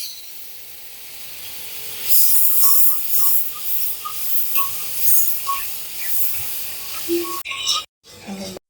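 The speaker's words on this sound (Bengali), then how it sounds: "এর মধ্যে আমি প্রায় 4 টেবিল চামচের মতো বাটার দিয়ে দিচ্ছি। বাটারটা গলিয়ে নিই।" About four tablespoons of butter melt in a hot wok, giving a soft, close hiss and faint crackle that swells after a moment and continues under a quiet background.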